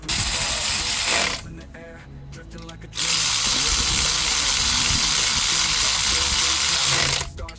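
Ratchet wrench tightening bolts on a Mitsubishi Lancer turbo engine during a rebuild, giving a dense run of close clicking ratchet strokes with a brief pause in the middle and more clicking afterward.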